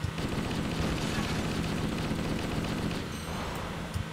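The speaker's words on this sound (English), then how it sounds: "I love watching all the shells fly out of the rifle" Rifle fire rattles in Halo, a dense burst of rapid automatic shots under a busy game mix that thins out briefly before a couple of last sharp cracks.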